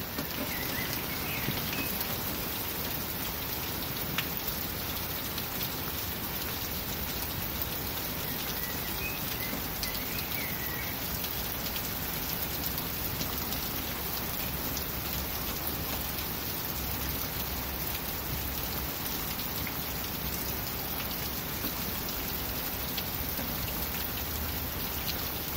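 Rain pours steadily during a thunderstorm, an unbroken hiss and patter of drops on surfaces, with a faint bird call now and then and no voices.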